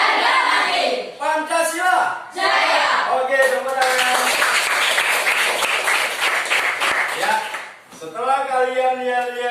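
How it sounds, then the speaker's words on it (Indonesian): Indonesian schoolchildren in a classroom break into a short burst of group hand clapping between bouts of loud chanted voices, the claps bright and close amid the shouting. "Oke, tepuk tangan."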